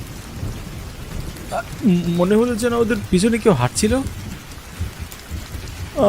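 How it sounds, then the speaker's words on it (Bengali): Steady heavy rain hisses throughout, with low thunder rumbling underneath while a voice speaks in the middle. "আষাঢ় মাস, বৃষ্টি তো হবেই"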